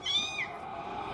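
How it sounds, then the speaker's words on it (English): A baby kitten gives a single thin, high meow that rises and then falls, fairly faint over a steady background hum of a TV show. "Oh, it's a little baby kitty."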